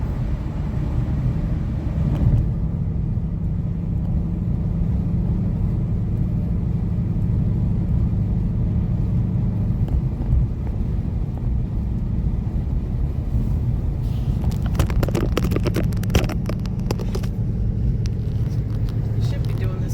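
Steady low engine rumble heard from inside a car on the road near Duluth, Minnesota, continuous throughout, with a burst of rattling noise toward the end.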